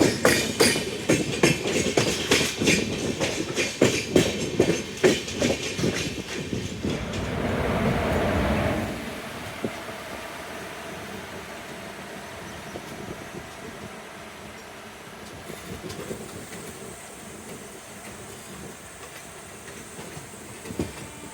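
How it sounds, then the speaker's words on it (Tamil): A Mangalore–Chennai Central express train rolls slowly onto a loop line, with loud rhythmic clickety-clack of wheels over rail joints up close before it fades into a steady low rumble and hiss. "நம்ம மங்களூர் சென்னை சென்ட்ரல் வண்டியை லூப் லைனுக்கு கொண்டு போயிட்டுருக்காங்க"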